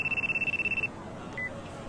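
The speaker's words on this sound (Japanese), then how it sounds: "あ、電話出ましょう。" A phone in the Yakuza video game rings with a rapid, pulsing electronic trill that stops abruptly partway through, leaving quiet background hum.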